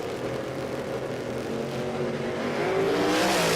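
A Toyota Corolla drag race car makes a full pass under power at a Queensland drag racing championship qualifying session, its engine a loud continuous roar that holds steady and builds slightly toward the end, with no talk.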